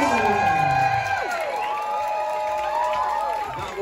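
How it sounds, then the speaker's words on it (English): Audience at a drag competition show cheering and whooping, a loud sustained crowd roar with scattered shouts and high voices carrying through the whole stretch. "Can we get a massive cheer for all of you?"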